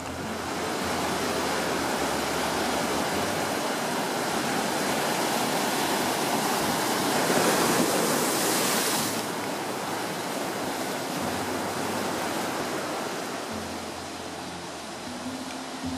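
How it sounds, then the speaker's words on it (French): Surf on the Basque coast roars steadily as ocean waves break, a dense, continuous wash of white water that swells slightly in the middle, with no voices. "Ces vagues quotidiennes offrent un superbe espace sportif pour les surfeurs."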